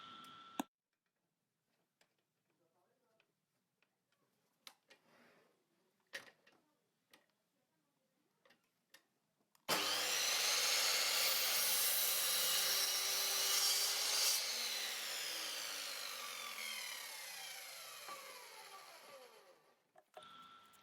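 Pallet wood boards cut at 45 degrees: after scattered quiet clicks and knocks, a loud, close power saw starts and runs for about ten seconds, its whine dropping as it spins down.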